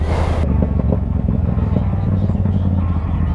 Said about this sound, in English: I love this engine in this thing.